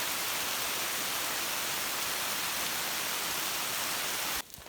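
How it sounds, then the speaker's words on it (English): A constant drizzle of rain hisses as a dense, even wash outdoors in the Gila, holding steady before cutting off abruptly near the end. "the rain is remaining kind of a constant drizzle"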